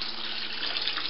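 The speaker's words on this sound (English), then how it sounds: "There's a pump down there that's pumping up into this little mason jar, acting as a filter." Submerged pump pushing water up into a small mason jar filter in an aquaculture setup, a steady close splashing and trickling hiss with no pauses.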